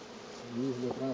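Honeybees buzz close up on a hive frame in a short burst, a wavering droning hum that swells and dips as they move about.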